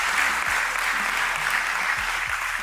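A conference audience at the Merck Foundation Africa Asia Luminary inauguration claps in a steady, even round of applause, with a low voice briefly audible underneath.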